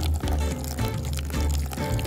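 Water pours from a container onto a newly planted plant in soil, a continuous splashing gurgle with uneven surges, fairly close and steady throughout.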